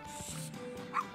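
A quick, faint yip of a small dog in the pet store of the video game Wobbly Life, like a game sound effect, over a low background hum.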